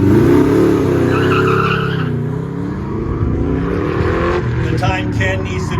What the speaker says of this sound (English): Ken Yo on the line, his 1965 Corvette packing a small block, side pipes, mini lights.